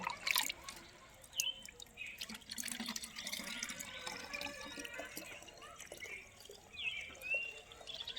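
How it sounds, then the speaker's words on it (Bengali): Liquid seaweed fertilizer is poured into a bottle, giving faint, close trickling and dripping with soft splashes that come and go irregularly. The sound is quiet overall. "তো চলো বোতলটাকে ভরে নিচ্ছি"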